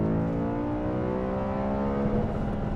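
Audi RS5 V8 engine revving from inside the car, a loud sustained harmonic drone with rising pitch as it builds revs, close and continuous with no talk.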